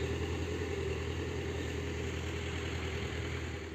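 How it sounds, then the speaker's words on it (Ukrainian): Steady idling tractor engine on a Ukrainian farm during beet sowing, a continuous low mechanical drone held at even loudness throughout, with no talking. "Ось і трактора діждались."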